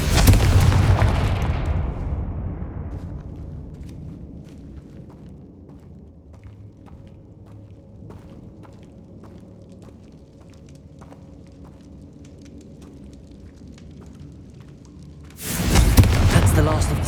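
Spell explosions from Bombarda and Confringo in the video game Hogwarts Legacy, a loud booming blast that decays over a few seconds into a low rumble, then a second sudden blast near the end.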